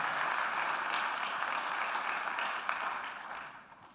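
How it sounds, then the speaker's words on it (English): Audience applause for student panelists at a fall convocation, a steady dense wash of many hands clapping that holds evenly before tapering off near the end. "another round of applause for our student panelists before they even get started"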